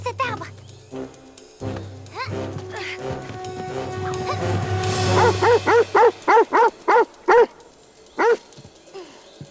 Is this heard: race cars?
no